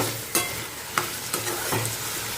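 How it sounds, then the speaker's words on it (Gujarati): Food frying gently in oil in a pan over a low flame, with a soft steady sizzle and a few sharp scraping stirs of a spoon at intervals. "ધીમી આંચ પર. અને આપણે તેને થવા દેવાનું છે તેલમાં, જસ્ટ ઓનલી તેલમાં."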